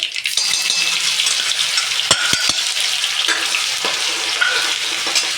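Mustard seeds, cumin and ginger-garlic paste fry in hot oil for a Gujarati onion-potato sabzi, making a loud, continuous close sizzle with a few sharp clinks of a spoon against the pan and no voices.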